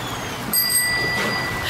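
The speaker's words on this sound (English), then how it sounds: "the bicycle bell sounds" A bicycle bell rings once with a bright metallic ting that lingers and fades, over steady background noise.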